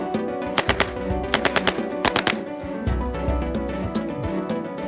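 Uzi submachine gun fired in a trench combat test: several quick bursts of sharp cracking shots in clusters, followed by lower thuds and rustling, moderately distant.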